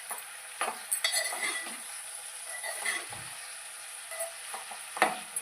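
Tomatoes and broad beans stirred in a frying pan: a spoon scrapes and clinks in a loose rhythm over a faint, steady sizzle, close by and fairly quiet, with no talking.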